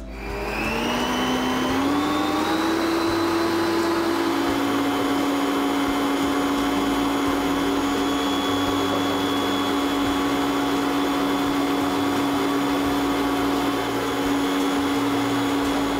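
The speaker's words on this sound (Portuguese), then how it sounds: "depois com a batedeira ligada ainda, eu vou acrescentar os outros ingredientes" An electric mixer whirring steadily and loudly as it beats colomba batter with oil, the motor pitch rising briefly near the start and then holding a constant drone throughout.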